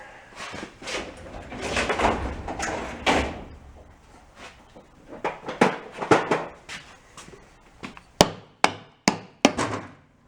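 Metal hammer blows strike an antique Briggs & Stratton engine in a workshop, a series of sharp, irregular knocks that grow louder and more widely spaced toward the end, heard close.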